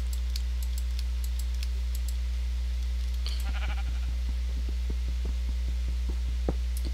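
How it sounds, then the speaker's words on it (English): Sheep bleating in the Minecraft video game, a few short game-sound bleats standing out over a steady low hum and background game noise. "Sheep!"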